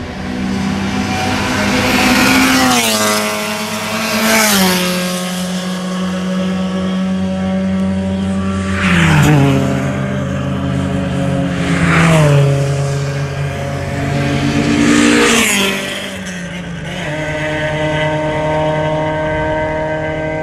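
Race cars, including a single-turbo 13B rotary and a front-wheel-drive Honda, at a trackday at Clark International Speedway: loud engines rev up through repeated gear changes, the pitch climbing and dropping again and again as the cars pass close by.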